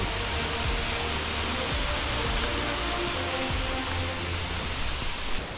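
A large waterfall about 100 m tall, the Twelve Falls beside a national road in Japan, gives a steady, unbroken roar of falling water, loud and even with no voices.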